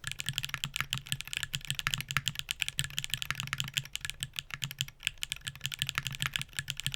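Rapid, steady typing on a mechanical keyboard with TTC switches, a dense run of crisp clacky keystrokes close to the mic with no voices.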